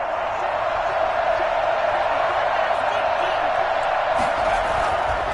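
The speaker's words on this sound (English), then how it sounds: "Listen to this crowd now" A steady roar from a stadium crowd in a Madden football video game before a 2-point conversion attempt, loud and constant throughout, with faint voices beneath.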